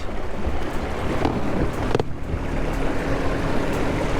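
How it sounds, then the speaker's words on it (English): An ePropulsion Spirit 1.0 Evo electric outboard motor runs at full throttle on a partly drained battery, pushing a small boat along. A steady, loud rush of water and wind buffeting masks a constant low hum. "That's full throttle, and that's not as fast as it was with a fully charged battery."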